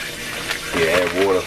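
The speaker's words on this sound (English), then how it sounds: "Yeah, add water." Water pours from a tap into a cooking pot for asparagus in a home kitchen, a steady gushing fill that grows fuller and louder partway through, close by with no talk over it.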